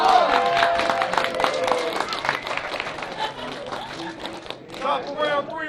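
A crowd at a rap battle league championship match claps and cheers loudly, with whoops and chatter mixed into dense, uneven applause.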